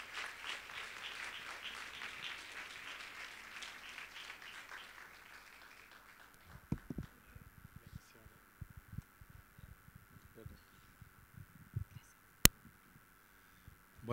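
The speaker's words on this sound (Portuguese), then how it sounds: "vamos a recibirlo con un aplauso en esta noche" A church congregation breaks into sustained applause at an evening service, a dense wash of clapping that fades after several seconds into scattered claps, thumps and a voice speaking.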